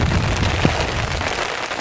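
Local rain falls on a small wooden boat, a dense, even hiss of drops with a low rumble underneath, steady and close throughout with no talking.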